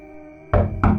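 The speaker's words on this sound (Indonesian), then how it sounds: "terdengar suara ketukan pintu berulang" Two firm knocks on a door, a storytelling sound effect, land about a third of a second apart, heavy and close over a soft sustained musical backdrop.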